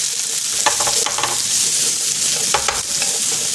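Beef sirloin stir-fried with vegetables such as onion and paprika gives a loud, close, continuous sizzle with bursts of spatula scraping and clatter, no voices.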